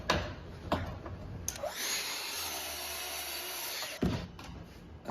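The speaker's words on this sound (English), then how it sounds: "we can try the new track saw" A Festool TS55 KEB track saw with a thin kerf blade spins up and cuts through a board for about two seconds, a steady loud whine with a high edge, framed by clunks and handling knocks before and after.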